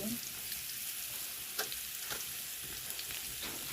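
Bitter gourd sizzling in a pan over a wood-fired chulha, dusted with turmeric and red chili powder, a steady low frying hiss with a few faint stirring taps, alone without talk.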